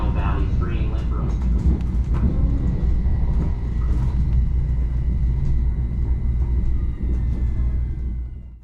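Long Island Rail Road commuter train running on the local service to Long Beach: a steady, loud low rumble of wheels and motors heard from inside, with a recorded voice making an announcement over it and fading at the end.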